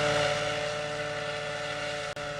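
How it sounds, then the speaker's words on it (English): A neural-network-controlled helicopter carrying a sling load hovers nearby, producing a steady, loud rotor and turbine drone with a sustained tonal whine and a brief dropout near the end. "Here the helicopter is carrying a sling load."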